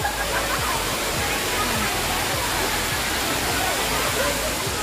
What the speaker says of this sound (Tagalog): ayun ang mataas yung falls sa may Wong Lung Hang falls